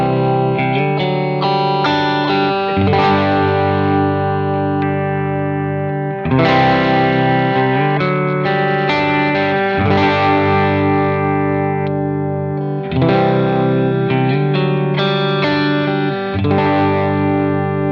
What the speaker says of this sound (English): I'm just going to play some chords and some picking on all the pickup positions